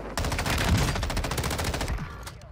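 Rapid automatic gunfire in a video game, a loud, fast-repeating burst of shots rattling continuously for about two seconds before tapering off.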